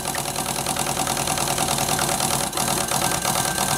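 Stuart D10 live steam water pump working under load with the gas burner cut, a loud continuous rhythmic clatter and hiss close by with a brief dip midway.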